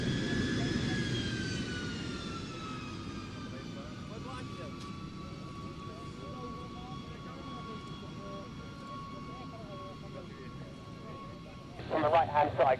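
B-52 bomber jet engines roar steadily at an airshow, a sustained loud rumble with a high whine gliding slowly downward, fairly near, swelling again near the end.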